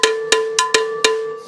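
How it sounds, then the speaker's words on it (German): A flat vinyl low cowbell on a hybrid drum kit, struck with drumsticks five times in an uneven rhythm, each hit a bright metallic clank with a ringing tone that hangs between strikes. "Das ist eine Vinyl Low Cowbell."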